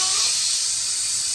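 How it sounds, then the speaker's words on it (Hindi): Steam hisses loudly and continuously from a pressure cooker being opened after cooking petha ash gourd curry, a close, steady rushing sound with no voices. "तो ये कुकुर हमने खोला है,"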